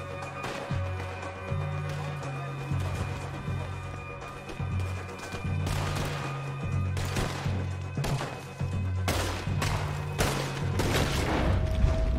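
Gunfire in Red Dead Redemption 2 crackles in repeated volleys and sharp bursts across the scene, loud and close, over a steady low rumbling game soundtrack, with louder clusters of shots near the end.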